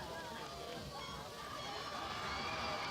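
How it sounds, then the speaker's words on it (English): High school football crowd cheering for the Berwick Panthers against the Patterson Lumberjacks, a steady wash of distant shouting and babble filling the whole stretch. "You can hear the crowd getting into it for their Berwick Panthers."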